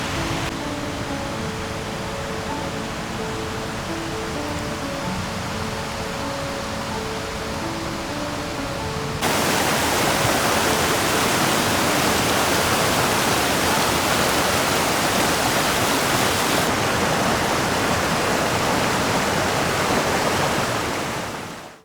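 A creek beside a night camp on the Arrow Lakes rushes steadily with a loud, even, hissing roar throughout, growing louder partway through, with no voices.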